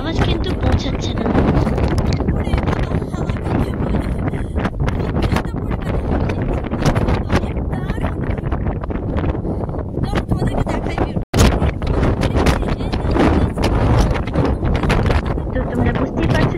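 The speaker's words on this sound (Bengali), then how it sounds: "তো তোমরা বুঝতেই পারছো যেখানে ভীষণ পরিমাণে হাওয়া চলছে, ভয়ঙ্কর রকমের হাওয়া চলছে" Strong gusts of wind buffet the microphone on the exposed Welsh coast at Rhossili Bay on the Gower peninsula, a loud continuous roar that nearly drowns out a voice talking over it.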